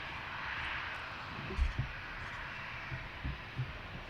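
American Airlines CRJ-700 regional jet arriving from Louisville at Reagan National, its steady broadband engine roar at moderate distance with a low rumble and a few soft thumps.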